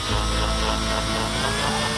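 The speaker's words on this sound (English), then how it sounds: "So we can see if we turn the drill on" A power drill drives an Archimedes screw water pump, giving a steady, close whirring hum with a constant motor tone for the whole stretch.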